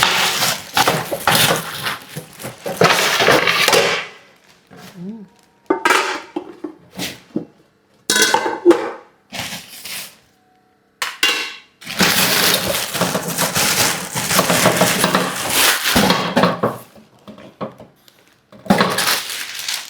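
New cooking pots and a steamer are unpacked and handled in a home, giving close bursts of crinkling bag plastic and metallic clanks separated by short pauses.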